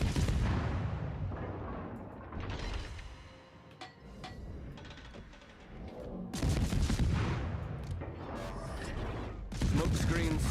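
Naval guns firing in World of Warships, a series of loud booming salvos with rolling echoes and mechanical clatter, recurring every few seconds and close and heavy in the mix.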